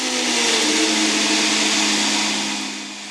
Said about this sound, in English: We homogenize the sample by use of a blender.